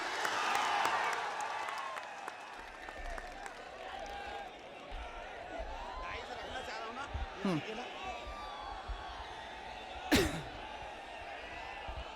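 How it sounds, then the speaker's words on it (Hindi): Applause at a poetry mushaira in Bhopal starts strong, then thins to scattered claps and murmuring with a few sharp knocks, heard fairly faintly from the hall. "एक बार फिर जोरदार तालियां।"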